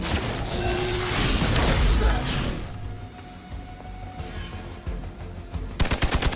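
Gunfire from a shot in the video game Marvel's Midnight Suns: a dense, loud burst of blasts and mechanical clatter over the first three seconds, then quieter clicks and rattles, with a rapid train of sharp shots near the end.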